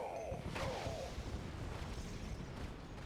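A barracks is destroyed in the Red Alert 2 real-time strategy game, heard as a steady rumble of explosions and artillery-like booms over constant battle noise, fairly faint and continuous.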